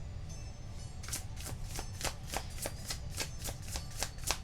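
Tarot cards being shuffled in a quick riffle, a steady series of about a dozen crisp, close flutters with no talking.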